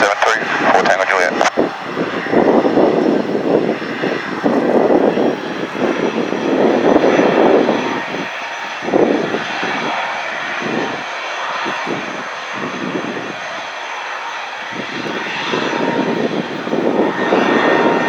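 Gulfstream 3 jet on runway 32 at Zurich airport, its engines roaring steadily through the takeoff roll while radio chatter breaks in and out over the top.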